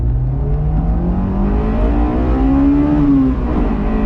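A Honda S2000 sports car engine revs up loudly and steadily in first gear, its pitch rising and falling as it climbs, close by, with no talking.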